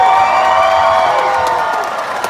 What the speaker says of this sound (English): When I say the truck's name, cheer only if you think that truck should be your winner.